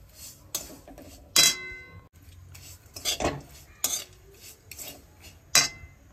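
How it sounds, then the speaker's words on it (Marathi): Sesame and other til ladoo ingredients are dry-roasted in a pan, with close, intermittent metallic scrapes and clinks of a spoon stirring against the pan between quieter pauses. "तर आता हे सगळं भाजून घेऊयात."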